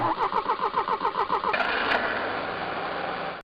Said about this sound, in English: a car starting up,